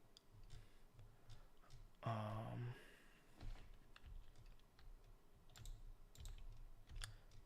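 Quick, light key clicks from the Opera GX browser's typing sound effect tap along steadily under soft background murmur, with a brief louder tonal burst partway through.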